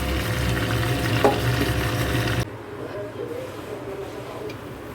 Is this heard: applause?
no